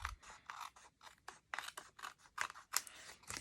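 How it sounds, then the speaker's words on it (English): Scissors trim paper for a handmade card, a rapid series of close, crisp snips and slicing rustles that come in irregular short bursts. "I'm going to trim that down with my scissors."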